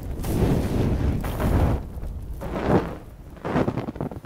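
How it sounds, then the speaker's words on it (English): Torch fire whooshes of various sizes, a series of deep, rumbling roaring bursts that swell and fade one after another, loud and close with no voices. "torch whooshes of various sizes"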